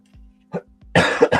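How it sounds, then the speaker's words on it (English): A lingering cough, close and fairly loud, with a couple of small throat sounds before a sharp two-part cough at the end. "I hate this lingering cough,"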